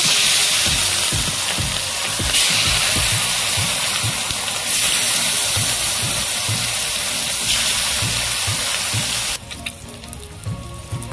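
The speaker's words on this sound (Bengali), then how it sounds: "তেল গরম হয়ে গেছে, মাছগুলো ভেজে নেব।" Loud, steady sizzling of rohu fish frying in hot oil, with rhythmic low scraping as pieces are stirred, close up and without talk.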